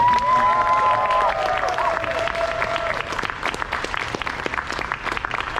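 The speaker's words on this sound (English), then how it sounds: "So if you could help me in giving them one more round of applause." A convention panel audience gives a sustained round of applause, dense clapping throughout with some cheering and whistles early on, fairly loud and close.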